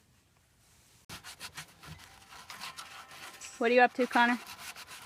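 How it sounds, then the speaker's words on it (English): Steady rhythmic rubbing strokes of sandpaper on worn teak wood aboard a boat, fairly close, while a voice briefly speaks partway through. "Just sanding down some of the teak."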